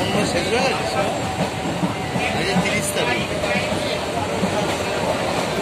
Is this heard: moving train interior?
yes